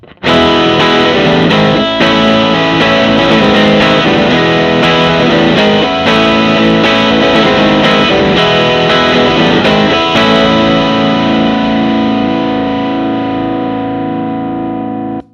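An electric guitar through a clone 808 overdrive pedal plays chords and riffs loudly and continuously, with a warm, gritty distorted tone, ending on a sustained ringing chord.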